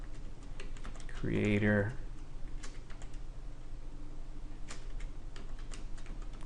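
Light clicks of a computer keyboard as a search term is typed in, faint and scattered under a brief spoken word and steady background hiss.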